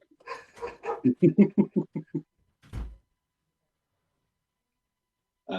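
A dog being let out at home gives a quick run of sharp barks or yelps, followed by a single dull door thump and then near silence before another short sound at the end.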